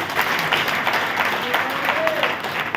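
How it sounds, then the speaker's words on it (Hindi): Loud applause from a crowd at a protest-movement gathering, dense clapping with scattered sharp claps, and some voices mixed in beneath it. "एक बार जोरदार ताली बजाएं।"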